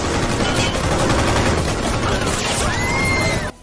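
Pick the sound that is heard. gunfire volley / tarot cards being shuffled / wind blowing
gunfire volley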